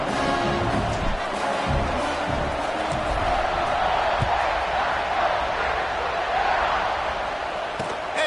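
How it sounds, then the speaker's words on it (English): Football stadium crowd at an Ohio State vs Illinois college game, a dense continuous roar and buzz filling the clip after a score, steady and loud with no breaks. "this crowd is buzzing after that last score"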